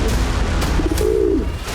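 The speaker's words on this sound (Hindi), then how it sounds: "एक कबूतर था।" A pigeon gives a soft, low rolling coo, close by, over a steady rumble of wind or background noise, at 12,000 feet in the Uttarakhand Himalayas.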